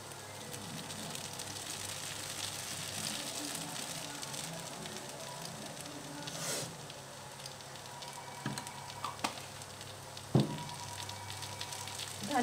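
Spices, including red chilli powder, fry in a hot pan for pav bhaji, a steady dense sizzle with a few louder clinks and spits near the end, close and moderately loud.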